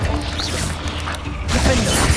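Confringo blasting spell cast in Hogwarts Legacy: a sharp crackling burst over a busy wash of game battle sounds, with a brighter flare toward the end.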